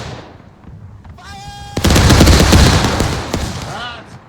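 Cannon and gunfire crash through a war video game set on a Union versus Confederate battlefield, a loud burst of overlapping shots and booms after a quieter opening, fading with scattered reports.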